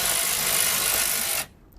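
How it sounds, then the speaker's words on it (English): A ratchet tightens nuts and bolts on a Can-Am X3 heat shield: a dense, steady, close-up mechanical whirring for about a second and a half, then it stops abruptly, leaving near silence. "nuts and bolts and stuff that he's installing right now with the heat shield"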